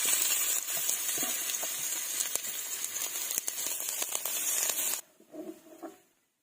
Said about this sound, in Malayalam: ഉള്ളി വറുക്കുന്നതിന് ആവശ്യമായ എണ്ണ ഒഴിച്ചു കൊടുക്കാം